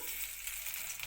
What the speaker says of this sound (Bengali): রসুন কুচিটা দিয়ে দিলাম